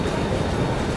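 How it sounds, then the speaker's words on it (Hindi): The Mandovi Express pulling out of Dadar station in Mumbai, a loud dense low rumble of rolling wagons that stays steady and close for the whole second, no talk over it. "दादर से ट्रेन अपनी निकल रही है"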